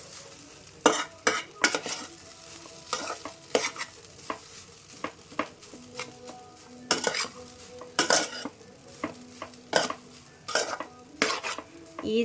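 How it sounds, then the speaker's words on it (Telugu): A spatula stirs egg rice with Maggi masala in a pan, scraping and clinking in repeated strokes over a soft sizzle, close up with no voices. "మంచిగా దీన్ని కూడా కలిపేసుకున్నాను"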